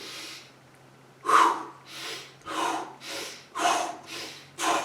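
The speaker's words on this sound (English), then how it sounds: "pull your stomach back out, breathe out, pull your stomach back in. It's called the breath of fire." Breath of fire yoga breathing: a series of sharp, forceful nasal exhalations, about five loud rhythmic bursts spaced roughly every second after a quiet start, close and alone.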